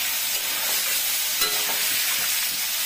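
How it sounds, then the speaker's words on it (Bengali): Pointed gourd (potol) shallow-fries in a pan of hot oil, giving an even hissing sizzle up close with a brief louder crackle partway through and no one speaking. "পটলটা দিয়ে দিচ্ছি ভাজার জন্য।"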